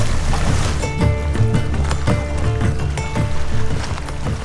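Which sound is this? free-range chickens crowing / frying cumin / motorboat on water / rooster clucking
motorboat on water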